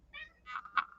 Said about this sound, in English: If you guys hear some meowing, Joey is in the room